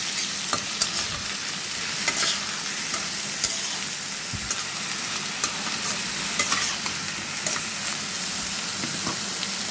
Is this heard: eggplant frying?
yes